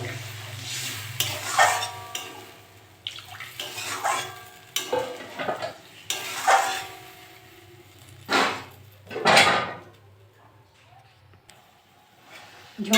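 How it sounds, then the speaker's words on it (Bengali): Pangas fish curry gravy bubbles and sizzles in a pan after water goes in, with spoon scrapes and stirring swells coming in bursts, close by, and a voice murmuring now and then. "আমি এবার জল দিয়ে দেবো।"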